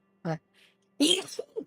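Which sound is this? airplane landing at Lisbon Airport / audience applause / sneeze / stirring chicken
sneeze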